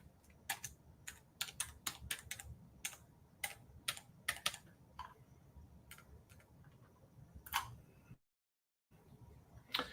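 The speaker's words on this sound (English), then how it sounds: "let me put in the right password" Password being typed on a computer keyboard: quick irregular bursts of clicking keystrokes, close and fairly quiet, with a short silent gap near the end and no talking.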